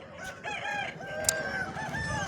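A rooster crows close by at a busy village livestock market where cattle, goats, chickens, ducks, parrots and pigeons are sold, its long wavering call rising over a low crowd murmur with a few short clucks.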